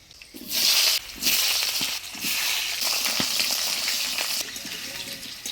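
Potatoes fry in hot oil seasoned with nigella seeds and dried chilli in a Bengali village kitchen, giving close, loud sizzling that comes in surging bursts and brief lulls as the pieces are stirred.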